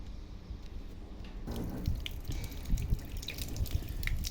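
Water drips and trickles from a flushed rear panoramic sunroof drain on a Renault Scenic 3, with the flow starting partway through as steady close splashing and irregular droplet hits.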